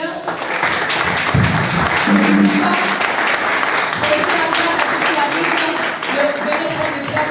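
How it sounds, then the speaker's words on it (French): A church congregation breaks into applause in praise of the Lord, a dense wash of clapping filling the room throughout, with voices and murmuring mixed in beneath it. "On peut acclamer le Seigneur."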